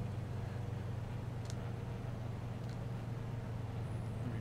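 A Beech 18 twin-engine aircraft on approach in Microsoft Flight Simulator, its engines throttled back to a constant low droning hum, steady and even throughout with faint clicks over it and no talking.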